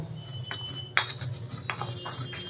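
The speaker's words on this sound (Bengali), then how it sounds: "মৌরিটা ঠান্ডা হয়ে গেছে, আমি এটা একটু পিষে নিচ্ছি।" Roasted fennel seeds, dry-toasted and cooled, are crushed for a sweet rasbora batter with a few sharp clinking knocks and scraping taps against a hard vessel, near and fairly quiet over a low steady hum.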